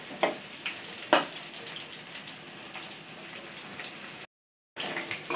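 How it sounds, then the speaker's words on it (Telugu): Bitter gourd pieces fry in a pan with a soft, even sizzle, broken by a few louder clacks of stirring and one brief gap of silence. "కలర్ వచ్చేదాకా మనం కాకరకాయ అయితే ఫ్రై చేసుకుందాము"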